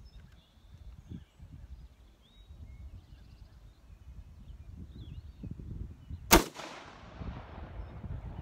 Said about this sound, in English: So let's take 5 more shots and make sure we're hitting the bullseye here.